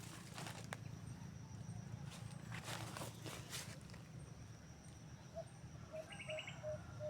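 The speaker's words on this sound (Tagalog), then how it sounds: "May humuhuni pa dyan" Outdoor bird chirps during a hunt with a trainee bird, with short faint repeated calls near the end over steady background noise and distant rustling.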